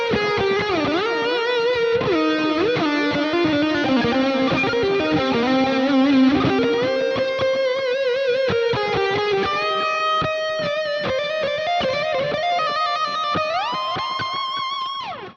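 A distorted electric guitar plays a melodic prog metal solo with bends and sustained notes, heavy effects giving it a smooth, saturated tone.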